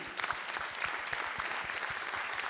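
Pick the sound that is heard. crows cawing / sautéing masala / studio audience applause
studio audience applause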